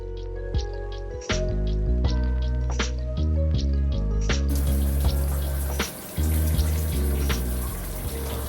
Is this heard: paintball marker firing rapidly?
no